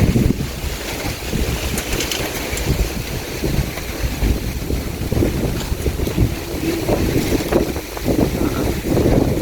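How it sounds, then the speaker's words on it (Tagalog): Strong wind blows through a plant garden, roaring and buffeting the microphone in a loud, constant rush with rumbling gusts and no voices. "Kasi dito, ito yung lakas ng hangin"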